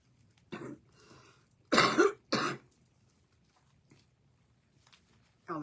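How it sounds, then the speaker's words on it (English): Three sharp coughs ring out close by in a quiet room, one, then a pause, then two in quick succession. "That's only the third time I've coughed today"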